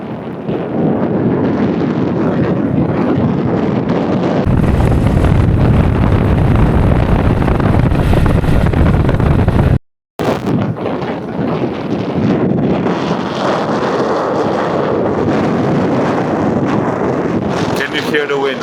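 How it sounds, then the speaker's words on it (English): Strong wind buffets the microphone on a mountain road lined with tea plantations in Yunnan, China, as a loud, constant rumbling roar with a brief dropout near the middle. A voice can be heard under the noise. "Can you hear the wind?"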